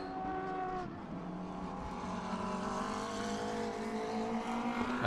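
A McLaren race car from the 91 team circles the Inje circuit in an Asian Le Mans Series race, its engine a steady, loud drone with harmonic whine that swells slightly as it passes, accompanied by other racing engine noise.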